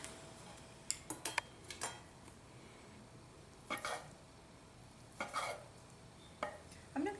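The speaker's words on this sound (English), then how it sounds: "We're gonna slice our meat." Rested chicken being sliced with a knife on a board: sharp clicks and taps come in small clusters, separated by quiet gaps under a low steady background, close up, with no one talking.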